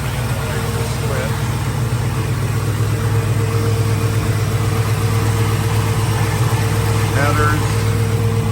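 Steady idle from a 1985 Chevrolet Blazer running dual exhaust and headers, a close, continuous low burble at an even pitch with a few faint incidental noises on top.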